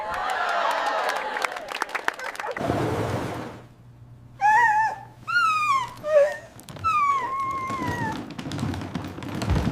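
A dog gives a few drawn-out whimpering, whining cries in short bursts after clattering tapping sounds and a brief hush, close by and fairly loud.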